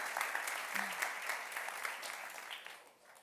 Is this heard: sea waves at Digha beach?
no